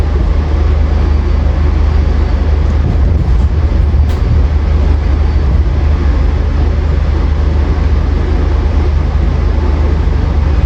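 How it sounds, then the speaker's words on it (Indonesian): Taksaka passenger train pulling away from the station at night, heard from on board as a loud, steady low rumble and rolling wheel noise with no break, no talking. "kita kereta api Taksaka tujuan Yogyakarta juga siap diberangkatkan"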